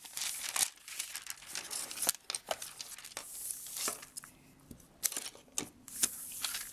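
A small sheet of wax paper is handled on a tabletop, giving repeated close crinkles and sharp rustles in irregular bursts, with no talk.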